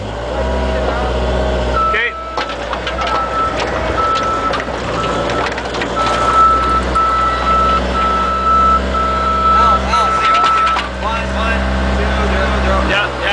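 A truck's reversing beeper sounds in a steady repeating tone at a work site by a rose garden, heard over a running diesel engine while people talk nearby.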